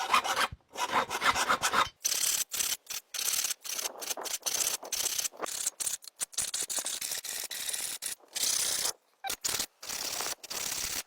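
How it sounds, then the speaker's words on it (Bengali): Hand filing sharpens the teeth of a saw, giving repeated rasping strokes in an irregular rhythm with short pauses between them, close and clear, with no talk. "এখন আমাদের এই করাতের ধার কাটা শেষ"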